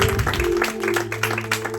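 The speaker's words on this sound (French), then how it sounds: "Est-ce qu'on peut applaudir le Seigneur?" A small church congregation of about 21 people claps and applauds in a brief burst of scattered, close handclaps with no voices heard.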